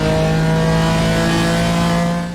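A BMW M4 GT4 engine in the iRacing game holds a loud, steady, high-revving drone under partial throttle through a sweeping right-hand corner at Watkins Glen. The sound continues unbroken and fades slightly at the end.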